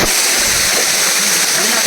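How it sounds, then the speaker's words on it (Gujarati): A small waterfall near the Devhatra hill Mahadev temple in Rajapipla, Gujarat, rushes and splashes close by in a loud, steady, broadband roar with no pause. "આ રહ્યો મસ્ત ધોધ છે ગાઈસ. નાનકડો પાણી બી એટલું ઠંડુ છે."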